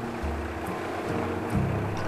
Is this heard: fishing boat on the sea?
yes